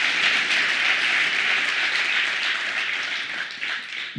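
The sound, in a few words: congregation applause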